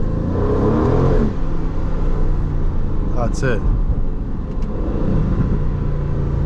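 An Aston Martin sports car's engine rumbles loudly as it downshifts and accelerates, with popping, crackling exhaust burbles. Someone speaks briefly over it.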